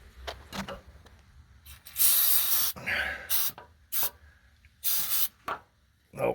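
An aerosol spray can hisses under a 2021 Chevrolet Silverado during an oil change, in several bursts of varying length separated by short pauses, with handling noises in between.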